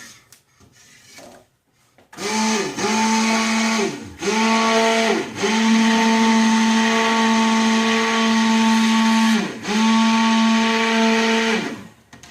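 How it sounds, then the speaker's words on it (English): Whirring stick blender mixing soap, switched on and off in several bursts, its pitch dipping as it bogs down in the thick liquid soap, running loud and close. "Insert my blender."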